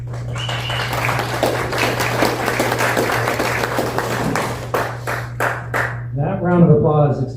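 An audience at a Gold Star veterans event in El Dorado County, California, gives a steady round of applause that thins into scattered final claps and then gives way to talking, all over a low electrical hum.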